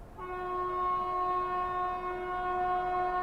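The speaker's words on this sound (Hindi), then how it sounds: "Banaras New Delhi Sivaganga superfast express" The Varanasi–New Delhi Shivganga Superfast Express sounds a long, steady, multi-tone horn as it approaches at speed, loud and close over a low rumble of the train.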